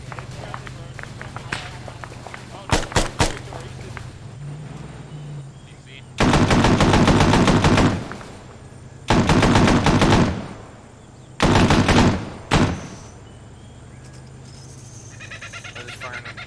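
Heavy .50 calibre machine gun fire in ArmA 3, set in a Vietnam-era operation: several loud sustained bursts, each one to two seconds long, separated by short pauses, with a few earlier single shots and quieter ambient noise between them.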